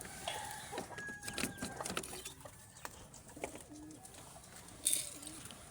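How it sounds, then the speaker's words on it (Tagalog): Breeder pigeons in a loft give soft, rounded coos, some near and some farther off, with scattered wing flutters and brief rustling in a quiet space. "Siyempre papakain ko rin yung mga kalapate ko dito, yung mga breeder."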